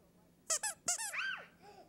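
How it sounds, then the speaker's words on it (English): A squeaky Miffy plush toy is squeezed, giving four sharp, high rubbery squeaks in quick pairs followed by a softer, wavering fading squeal, close and clear with no talking. "And this Miffy squeaks, listen."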